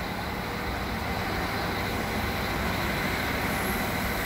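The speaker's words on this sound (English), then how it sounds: "this is a train sorry ready to move" A train waiting at Graz central station gives off a steady, loud broadband rumble and hiss, unbroken and close, with no voices over it.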